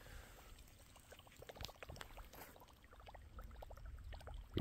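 A Tiemco sprinkler frog topwater lure plops and sputters across the surface during a morning bass fishing trip, a faint run of quick rhythmic splashes close by over quiet water.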